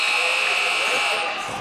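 A basketball shot clock buzzer blares in a gym during a Sheldon game at North Medford, a loud, steady, piercing electronic tone held for well over a second, with faint voices behind it.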